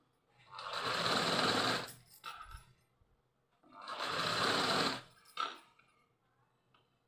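A sewing machine stitches a frock in two sustained whirring runs, each lasting over a second, with a pause and a short mechanical clatter between them, heard close and alone.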